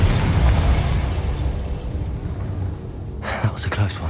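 Spell explosions in the video game Hogwarts Legacy burst and boom through dense battle noise, with a sharp cluster of pops and blasts near the end, while a voice speaks over the action.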